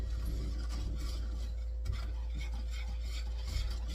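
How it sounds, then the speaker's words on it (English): Choux pastry dough is stirred constantly in a pan on the stove as it thickens, giving a steady close scraping and rubbing with soft spoon knocks and a faint sizzle underneath, without talk. "So just stir constantly."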